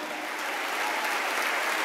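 A congregation at a Christian music tribute to gospel duos and trios gives sustained, even applause, a dense wash of clapping throughout with no voices over it.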